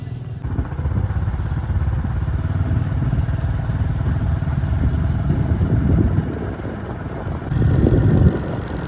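A motorcycle rides along at steady speed, its engine a continuous low rumble mixed with heavy wind buffeting, loud and close, swelling slightly near the end.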